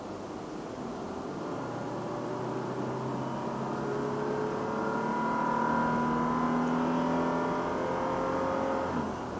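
A car cruises on the motorway from Lahore toward Islamabad, climbing at height, with a steady engine drone and road rumble that swells slightly midway, continuous and close, no talk.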